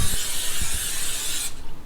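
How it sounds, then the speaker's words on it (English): A baking pan is sprayed in one continuous close hiss lasting about a second and a half, with small clicks and rattles from the can underneath. "we're gonna spray our pan"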